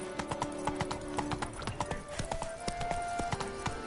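Geralt's horse Roach galloping in Witcher 3, rapid rhythmic hoofbeats clip-clopping close and clear over a faint tonal game background, without voices.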